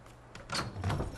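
A door in the video game Fortnite swings open automatically with a soft sliding rush and a couple of muffled knocks, close and moderately loud over a low in-game hum.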